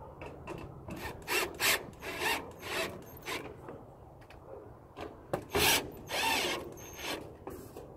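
Fasteners being tightened down on decorative pieces fitted to a garage door, a series of short scraping, rasping turns in uneven bursts, fairly close and quiet, with no talk.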